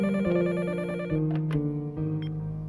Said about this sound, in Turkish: Sabah sen uyanmadan telefon çaldı.